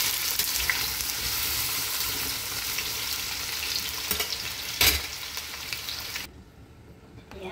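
Sautéed potato slices sizzle and crackle steadily in a pan with occasional stirring clatters, a sharp scrape near the five-second mark, before the frying noise drops away abruptly.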